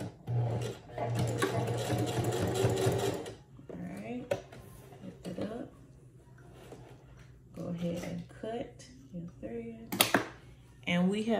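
A sewing machine stitching hair combs into a wig: a close, rapid mechanical whirring burst at the start, followed by scattered handling rustles and scrapes while a person talks.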